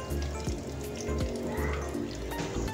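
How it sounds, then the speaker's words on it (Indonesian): Soaked glutinous rice rinsed under running water in a kitchen, a steady close splashing and trickling with small clatters of grains and container, no talking. "Selanjutnya saya cuci beras ketan yang tadi malam saya rendam dengan air mengalir ya."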